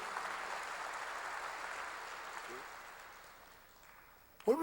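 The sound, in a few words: congregation applauding in church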